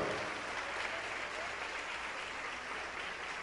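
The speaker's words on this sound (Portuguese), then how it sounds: "Vamos aplaudir ao nome do Senhor." Steady applause from a congregation at an evangelical baptism gathering, a continuous wash of many hands clapping, moderately distant and even throughout.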